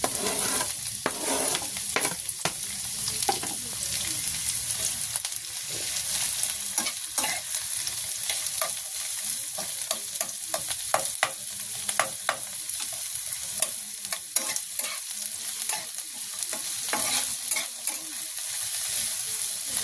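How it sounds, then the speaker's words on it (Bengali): Chopped onion and chili frying lightly in hot oil, a steady close sizzle broken by frequent scraping and stirring clicks of a utensil in the pan. "তো আমি হচ্ছে পেঁয়াজ আর মরিচটা হালকা করে ভেজে নেব।"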